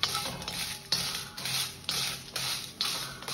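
Coriander seeds and Byadgi dried chillies being dry-roasted in a pan for bisi bele bath masala, with regular scraping strokes of a spatula against the metal roughly every half second, close and fairly quiet with no talking.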